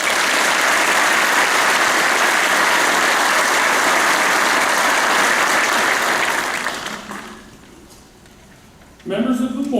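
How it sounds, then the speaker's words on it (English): Loud, sustained audience applause at a high school graduation ceremony, continuous clapping from a large crowd that dies down after about seven seconds, then a voice begins speaking. "Please give them a round of applause."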